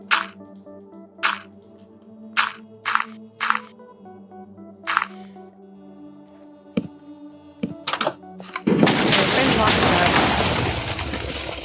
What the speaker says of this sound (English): And an instant explosion right in front of their face happens.